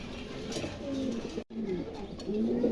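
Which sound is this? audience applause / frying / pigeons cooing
pigeons cooing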